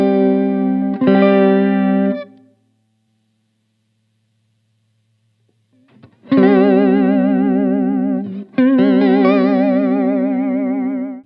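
Sustained electric guitar chords through a Boss VB-2 vibrato pedal at maximum depth wobble with deep, heavy pitch vibrato, a brief strum, then a pause, then two more long warbling chords ringing out loud.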